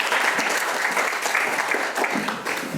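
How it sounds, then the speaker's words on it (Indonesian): A church congregation claps and cheers together, a dense, loud wash of applause that stays steady for the whole short stretch with no clear speech over it. "Sekali lagi beri tepuk tangan yang meriah untuk Tuhan kita atas kebaikannya"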